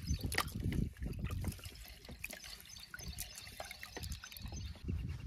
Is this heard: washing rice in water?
yes